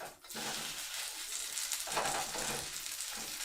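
Potatoes fry in a pan on a home stove, a steady broadband sizzle held close and fairly quiet, with a brief stirring or shifting sound partway through and no talking.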